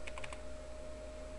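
Four quick taps on a computer keyboard while a colour code is typed in, short crisp clicks up close over a steady electronic hum, then quiet hum alone.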